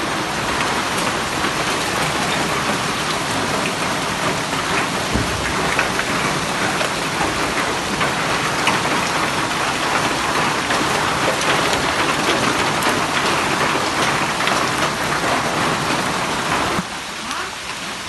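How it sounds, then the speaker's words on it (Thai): Heavy rain pours steadily on a rubber plantation, a loud, dense wash of drops hitting leaves and ground that holds constant throughout, easing slightly in the final second. "บรรยากาศตอนนี้ก็ฝนตกหนักนะ"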